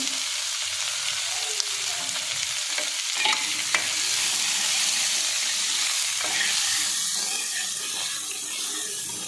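Chopped onions and green chillies frying with cumin in oil for an arbi dish, a steady, close hissing sizzle with a few stirring clatters and sharp ticks of utensil on pan.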